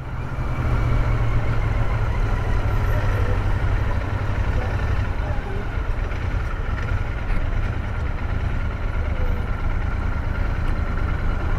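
A Royal Enfield Interceptor 650 motorcycle rolls slowly in second gear through traffic, its steady low engine drone and exhaust rumble continuous and fairly loud, with road and wind noise mixed in.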